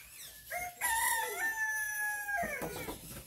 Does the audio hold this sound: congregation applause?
no